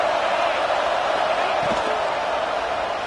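Stadium crowd noise in an NCAA football video game: a loud, constant roar from the stands with a faint thump partway through and no clear commentary.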